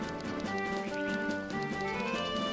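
Horse hoofbeats from Majora's Mask, a steady clip-clop trotting rhythm set against a tonal musical backdrop, faint and even throughout.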